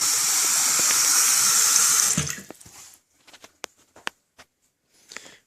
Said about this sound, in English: I attempted to turn the water on, and the water is on in the property